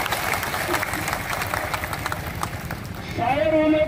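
A crowd gathered outside a district collector's office claps in a dense, continuous patter at a rally, with a voice rising over the applause near the end.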